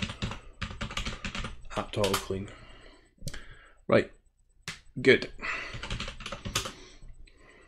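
Quick bursts of keystrokes on a computer keyboard as commands are typed into a small Debian 10 virtual machine running the i3 window manager, with clicks scattered between and over close, steady talk.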